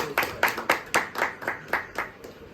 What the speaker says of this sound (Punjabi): ਲੋ ਜੀ ਮਾਰ ਦਿਓ ਕਲੈਪਿੰਗ ਕਰ ਦਿਓ ਜੀ ਇੱਕ ਵਾਰੀ ਤਾੜੀ ਜ਼ਰੂਰ ਮਾਰੋ